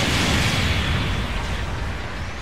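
A charged cannon fires in Gundam Battle Operation 2, a loud broad blast that rumbles and slowly tails off over a couple of seconds.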